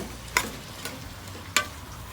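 Banana and fig talkari stirred in a pot, Trinidad style: three quick scraping spoon strokes against the pot over a low, quiet sizzle, the first and last strokes sharper and louder.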